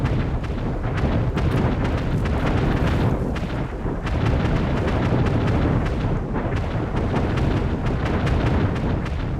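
Booming cannon fire rolls through a naval siege battle in the city-building game Anno 1800, a loud, dense, continuous barrage of overlapping blasts with no speech.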